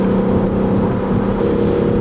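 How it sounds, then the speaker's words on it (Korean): A Peugeot 308 GT's engine hums and builds slightly under kickdown acceleration, a smooth, continuous drone without harsh revving. "엔진 소리도 따라서 조금 커지긴 하지만 그렇게 찢어지는 소리가 아닙니다."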